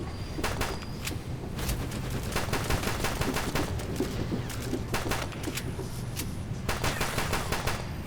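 Rapid bursts of pistol gunfire from a starter pistol in a video game, sharp cracking shots coming in quick irregular clusters over a steady noisy backdrop.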